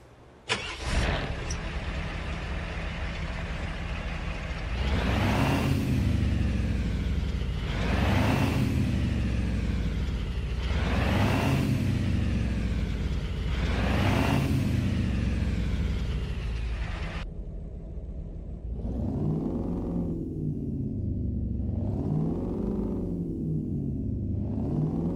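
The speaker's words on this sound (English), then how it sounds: "Man, that is a beautiful sounding diesel engine right there." A 1986 Ford F350 Dually diesel engine in American Truck Simulator cranks and fires up, then settles into a steady rumbling idle broken by a series of rising and falling revs, loud and close throughout.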